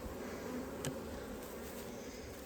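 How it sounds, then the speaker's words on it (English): Honeybees buzz steadily at a salvage hive split, a dense continuous droning hum that is close and evenly loud throughout, with no talking. "Well, looks like we got bees in there."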